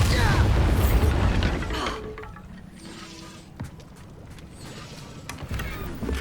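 A Bombarda spell explosion in the video game Hogwarts Legacy, a loud broadband blast that fills the opening two seconds, then fades into a quieter rumble with a few faint pops and clinks afterward.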